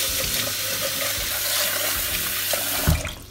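Sushi rice is rinsed under a running kitchen tap, with steady splashing water close up and a brief clatter near the end.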